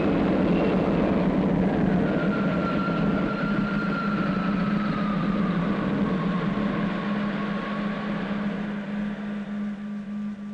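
A steady, loud spaceship takeoff engine effect in an old science-fiction drama, with a sustained low drone and a thin whine that drifts slowly downward, fading slightly at the end with no voices.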